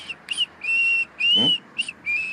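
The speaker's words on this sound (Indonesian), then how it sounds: "Jangan bersiul kayak gitu." A person whistles a short repeated tune in several bursts, each with a clear high tone, with pauses between phrases and no talking.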